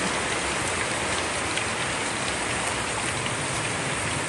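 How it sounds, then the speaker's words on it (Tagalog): Heavy rain pours down in a dense, loud, unbroken hiss of countless drops hitting surfaces close by, steady from start to finish with no voices. "Naabutan ako ng ulan."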